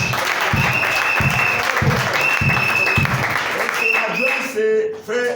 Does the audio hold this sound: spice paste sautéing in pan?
no